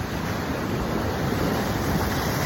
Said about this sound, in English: the water's a little choppy right now